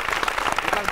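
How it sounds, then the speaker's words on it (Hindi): Audience clapping at a Hindi poetry recital for poet Vineet Chauhan, a dense, brief burst of applause. "जरा जोरदार ताली एक बार विनीत चौहान के लिए"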